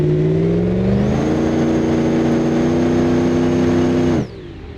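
A car in BeamNG.Drive accelerates hard, its mid-pitched engine rising steadily in a loud continuous whine and roar before cutting off abruptly near the end.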